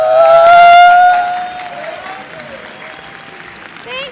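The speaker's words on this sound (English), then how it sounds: "I want you to give a warm round of applause for my heart, Teresa Concepcion." Audience applause at a Thursday night tea gathering, a loud burst of clapping that peaks early and then tapers off to a softer patter.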